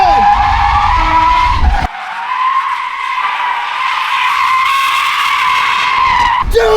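A Tesla drift car slides with a loud, sustained tire squeal, a wavering high screech lasting several seconds after a rough engine-and-road roar, cut off sharply, then resuming at the end.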